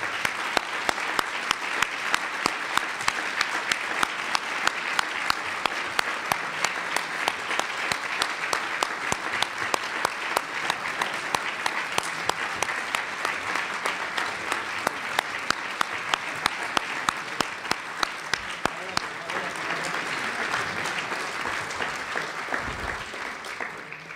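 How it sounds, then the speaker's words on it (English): An audience gives a long, sustained round of applause for the Illinois Innocence Project staff as they come to the stage, with dense, steady clapping close by from many hands and a few sharper claps standing out. "Please give them a round of applause."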